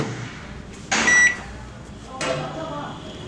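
A microwave oven baking coin biscuits, also called egg biscuits, hums steadily while a short series of electronic beeps rings out near the start. Someone talks over it.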